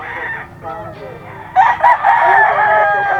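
A young Hatch Grey stag crows close by in a game fowl farm setting, a loud, strained cock-a-doodle-doo that swells in the second half, with clucking and a voice beneath it.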